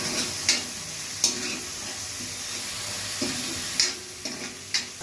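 Puffed rice pulihora cooks in a pan with salt, coriander and lemon juice, giving a steady low sizzle and hiss broken by several sharp scraping clicks as it is stirred, close by with no talk.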